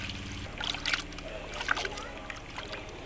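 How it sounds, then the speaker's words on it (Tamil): Water sloshes and splashes as fish is rinsed in a clay pot, with steady trickling and a few brighter splatters, close by and moderately loud. "தண்ணி ஊற்றி அலசி எடுத்துக்கலாம்."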